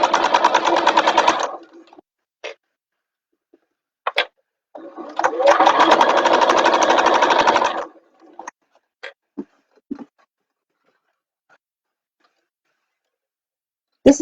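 Sewing machine basting fabric for a bag runs in two loud close bursts of rapid stitching, each a few seconds long, separated and followed by scattered clicks and handling taps.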